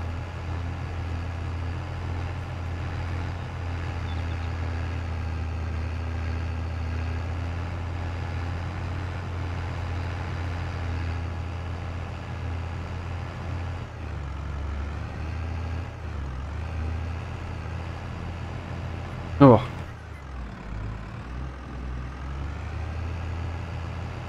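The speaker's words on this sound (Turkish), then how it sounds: "Çekmiyor traktör daha doğrusu" A tractor engine strains under load in Farming Simulator 22, a steady low drone that holds throughout, with one sharp brief burst near the end.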